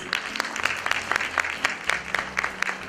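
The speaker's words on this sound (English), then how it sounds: "Another round of applause for her, please." Steady applause from a conference audience after a keynote address fills the clip, a dense patter of claps with a few sharper individual claps standing out.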